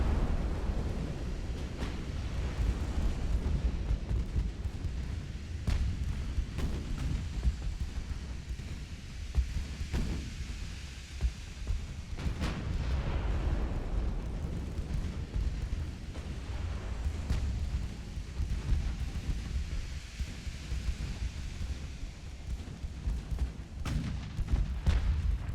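Battleship artillery fire in the naval game Ultimate Admiral: Dreadnoughts, heavy booming salvos and distant cannon reports rolling over a constant low rumble of sea and engines, with sharp transients scattered through the stretch.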